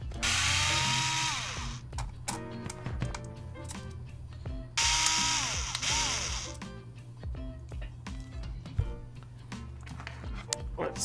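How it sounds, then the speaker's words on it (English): Power driver whirring in bursts as it backs screws out of the front bulkhead assembly on the underside of an RC car, with ratcheting clicks and handling noise close by and a voice talking in between. "we got to take off 2 screws that are holding down this front bulkhead"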